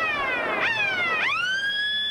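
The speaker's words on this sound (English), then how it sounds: "with the half-time siren going." Half-time siren at a 1992 rugby league match between Canberra and Illawarra, a rising and falling wail that swoops twice and then holds steady, moderately loud across the ground.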